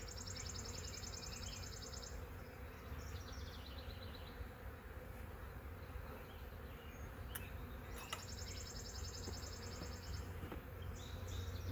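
Continuous buzzing of many honey bees around a queenless hive with laying workers, a dense steady drone with occasional faint chirps from birds or insects in the background.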